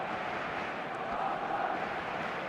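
A dense, steady roar of a large stadium crowd fills a football match in eFootball, constant and loud throughout with no single voice standing out.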